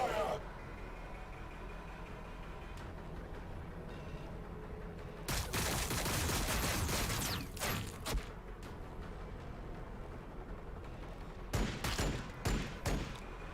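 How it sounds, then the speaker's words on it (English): Bursts of rapid gunfire and explosions in the Warhammer 40,000: Battlesector strategy game, dense volleys in the middle and later clusters of sharp shots over a low battlefield rumble. "I love that dramatic shooting as they're coming over."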